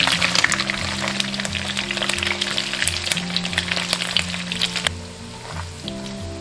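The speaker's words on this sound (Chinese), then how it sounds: "这样煎一下，可以把那个五花肉多余的油脂给它煎出来" Fatty pork belly sizzles and crackles with popping spatters in a hot pan, then fades to a softer fry near the end, with music playing underneath.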